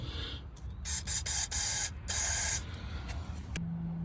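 Brake cleaner hisses from an aerosol can onto an engine's fuel lines in several sharp spray bursts, two of them long and steady, with short pauses between, loud and close.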